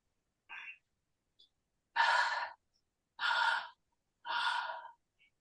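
Breathing in and out during an exercise class: three strong, airy breaths spaced about a second apart, each one a long, loud exhale, after softer short inhales at the start.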